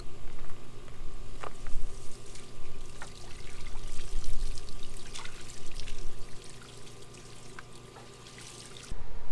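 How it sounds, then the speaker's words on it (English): Water runs steadily over a part being rinsed of sprayed cleaner during a Harbor Freight Predator motor swap, a loud continuous splashing pour with small drips and clatters, cutting off near the end. "And then I'm going to rinse it right off."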